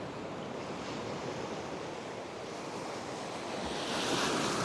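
Surf on a beach near Perth in Western Australia washes in as a steady broadband roar that swells slightly toward the end, with no voices over it.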